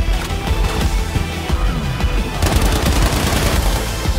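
Rapid video-game gunfire crackles in dense bursts, with automatic volleys growing heavier toward the end, loud and close with no talking.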